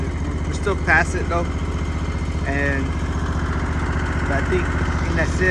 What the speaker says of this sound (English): But you hear how loud this mower is.